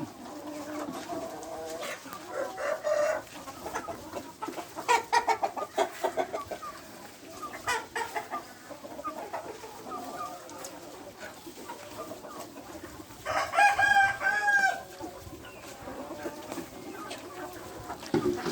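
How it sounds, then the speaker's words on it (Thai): Pradu Hang Dam black-tailed Thai native chickens, kept as breeding stock in Chiang Mai, cluck in repeated nearby bursts, and one louder, drawn-out crow comes near the end. "ไก่ประดูหางดำเป็นไก่พื้นเมือง ที่เลี้ยงง่ายโตเร็ว"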